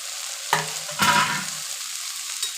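Chilli bajji gravy frying in a pan gives a steady, close sizzle, with two sharper stirring scrapes early on and no voices.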